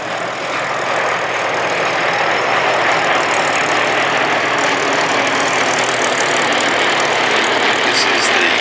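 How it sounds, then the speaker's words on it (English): Vintage aircraft engines rumble steadily while taxiing at the Flying Legends 2018 airshow, a loud, continuous drone that swells slightly over time with no clear breaks. "We still have lots of taxiing aircraft,"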